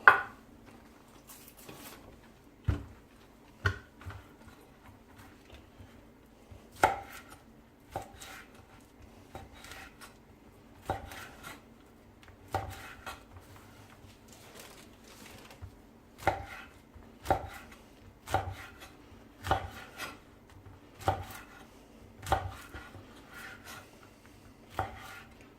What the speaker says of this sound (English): So what I'm doing here, I'm just chopping this up